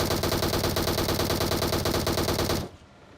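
Rapid automatic gunfire from the PUBG Mobile battle royale game, a loud sustained burst of closely spaced shots that cuts off abruptly near the end, leaving near silence.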